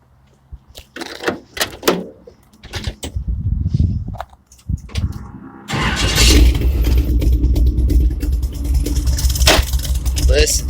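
A 1962 Chevrolet C10 pickup engine cranks and catches, then settles into a loud, steady rumbling idle with a deep, throaty side-exit exhaust note; scattered clanks and rustling come before it.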